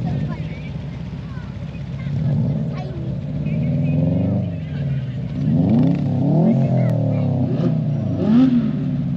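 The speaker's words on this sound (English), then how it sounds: "it sounds like that's revving." A car engine revs up and down in repeated surges at a motor gala in Bognor, fairly close and loud, with voices chattering underneath.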